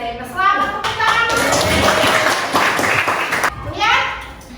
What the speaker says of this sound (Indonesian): Selamat tepuk tangan